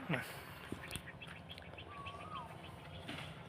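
Chickens cluck and squawk outdoors amid background noise, with occasional higher calls and faint voices nearby.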